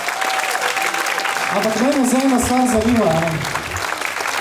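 Audience applause for the band at their 2016 reunion concert, a steady loud roar of clapping heard under someone speaking into the microphone.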